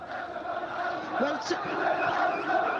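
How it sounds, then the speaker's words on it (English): A large crowd protesting in eastern Libya after prayers, a sustained roar of chanting and shouting voices at a moderate distance, steady and dense throughout. "the crowd broke out in a huge protest calling for the fall of the regime"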